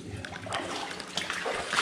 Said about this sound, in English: and the water's still flowing